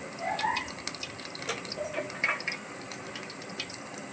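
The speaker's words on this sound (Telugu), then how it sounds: "ఇప్పుడు తను వాటర్ అనేది యాడ్ చేస్తున్నారు" Water gushes into a bowl of gram flour batter being mixed for Rayalaseema-style mirchi bajji, a soft, fairly faint trickling and splashing that runs steadily with small sputters and no talk.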